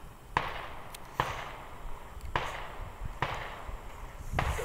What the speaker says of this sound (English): Got some gunshots, so we're gonna go ahead and wrap this thing up